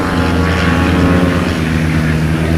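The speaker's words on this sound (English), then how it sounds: "Nice little tumble maneuver there by RJ." A Decathlon aerobatic airplane's engine and propeller roar loud and steady as it performs a tumble maneuver at a beach airshow, a dense continuous drone with no talk.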